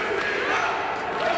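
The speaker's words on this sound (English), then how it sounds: "This crowd is clearly, clearly behind her. I can't even hear myself think." A loud wrestling crowd roars and cheers behind a women's four-way main event match, a dense, steady wall of voices filling the whole moment with no break.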